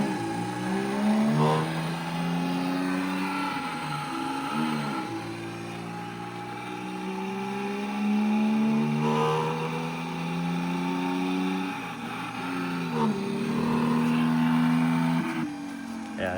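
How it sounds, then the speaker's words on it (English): A small mock-up of a Porsche 911 six-cylinder engine hums and drones steadily, its pitch rising and falling in smooth waves as it runs. "I have like a small Porsche 911 6-cylinder engine here, which you can hear."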